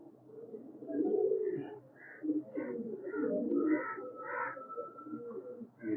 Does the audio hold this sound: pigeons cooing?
yes